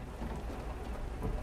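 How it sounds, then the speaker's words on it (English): Rain from a weather mod in American Truck Simulator, a dense, steady hiss of rain with a low rumble, heard briefly and alone. "I think that's down to a mod that I've got added, which gives me different wiper and rain sounds"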